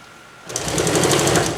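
A sewing machine runs a fast, steady, loud whirring stitch close up near the edge of a jungle hammock, starting abruptly after a brief quiet moment.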